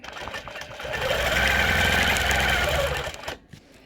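A quilting machine stitches curved cross hatching with a steady, close mechanical hum and rapid needle chatter. It rises and holds for a few seconds, then stops abruptly, with no talk.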